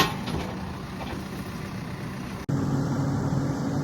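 A tractor engine runs steadily while pulling a trailer during a day of chopping, a constant low rumble heard close, broken by a sharp momentary cut midway before the drone resumes.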